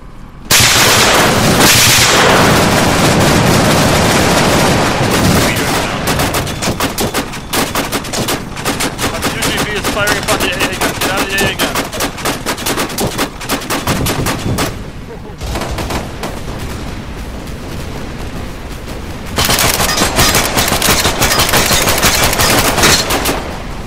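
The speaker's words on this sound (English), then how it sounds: "Hit it with the AA gun" Anti-aircraft gun in a video game firing loud, sustained bursts of rapid shots, with brief lulls and a renewed barrage near the end.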